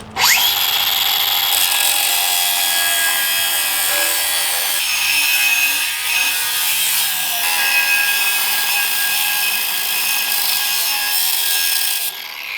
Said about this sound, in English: the depth we get in this grinder makes that job so much simpler